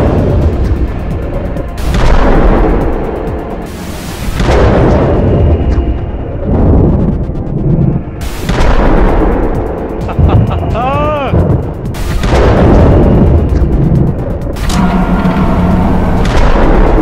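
A 1911 pistol in a horror video game fires repeated heavy booming shots, several loud sharp blasts spaced out with reverberant tails, mixed with a voice talking between them.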